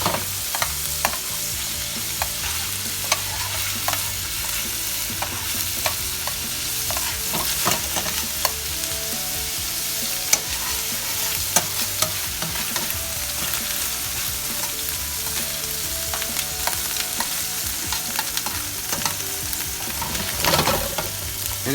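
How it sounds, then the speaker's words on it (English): Food frying in a hot pan, a loud continuous sizzle dotted with sharp pops of spattering grease and occasional utensil scrapes, no one talking. "And it does make a mess. Grease pops everywhere."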